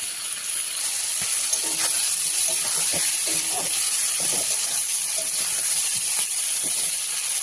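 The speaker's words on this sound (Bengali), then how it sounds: "চিংড়ি মাছও ভাজা প্রায় হয়ে গেছে" Shrimp frying in a pan gives a steady, fairly loud sizzling hiss close by, with faint clinks and some soft background voices.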